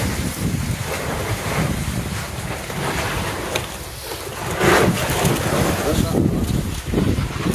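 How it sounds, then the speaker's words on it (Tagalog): Rough, continuous surf noise of waves breaking, loud and close, with wind buffeting the microphone throughout. "Tagabog yung alon."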